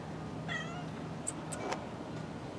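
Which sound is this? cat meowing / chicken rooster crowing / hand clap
cat meowing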